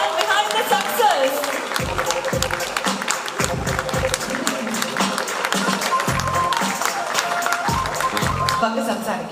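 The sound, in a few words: audience applause for the director at a film celebration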